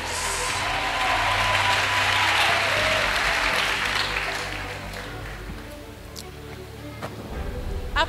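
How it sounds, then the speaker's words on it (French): A church congregation breaks into sustained applause, loud and dense at first, then tapering off toward the end, with a voice speaking over it. "Acclamation à Jésus-Christ"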